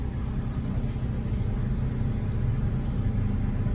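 A steady low engine rumble from cars idling or creeping up to the drive-through window of a small biscuit restaurant run out of a house, continuous and fairly close, with no voices.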